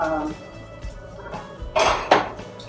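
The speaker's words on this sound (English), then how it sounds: "Get them all scraped off the bottom." A spatula scrapes the bottom of a hot skillet while pork chops cook for a Tex-Mex casserole, giving short metallic scrapes and clanks that grow louder toward the end, with no talking.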